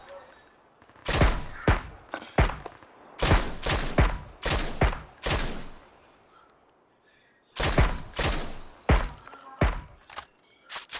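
Gunfire crackles through a PUBG: Battlegrounds match, with loud, sharp bursts of shots from a Mini 14 and other guns coming in rapid clusters, separated by short pauses.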